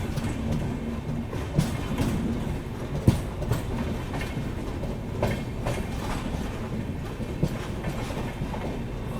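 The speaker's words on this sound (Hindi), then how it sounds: "चलो अब यहाँ से गाड़ी निकली" Azamgarh–LTT Mumbai Superfast Express running along a slow route, a steady loud rumble of rolling stock with irregular clickety-clack wheel knocks over rail joints, heard continuously from on board.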